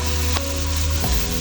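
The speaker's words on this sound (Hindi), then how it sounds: "प्याज, चिकन, लहसुन अदरक और चिली पेस्ट को हम इसी में फ्राई कर लेंगे।" Chicken, onion and garlic-ginger-chili paste fry in a pan with a dense, loud, steady sizzle, and two brief knocks of a utensil can be heard.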